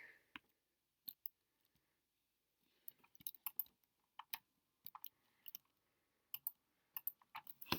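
Sparse computer keyboard arrow-key presses click in irregular bursts, single taps and quick clusters, close and crisp against near silence, with no talking.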